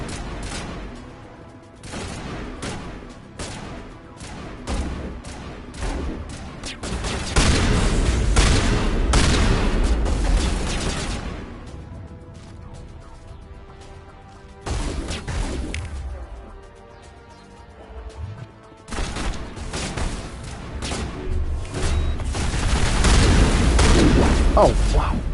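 Gunfire in the video game Mass Effect: Legendary Edition comes in heavy bursts and booming impacts, with loud stretches of shooting separated by quieter gaps where music and game sounds continue.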